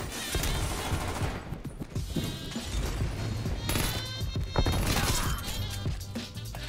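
C58 rifle firing in the video game Call of Duty: Cold War, heard as sustained bursts of rapid gunfire with sharp cracks and impacts, fairly quiet and continuous with no talking.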